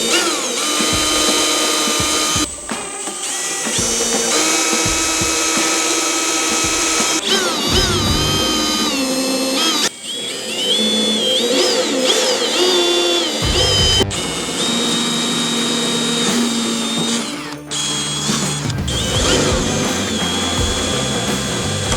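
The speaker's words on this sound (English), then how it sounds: "So what I'm going to do is drill some holes, get this all mounted up," Power drill boring holes to mount a carbon fiber body: repeated bursts of high whining drilling that rise and fall in pitch, separated by brief pauses, loud and close.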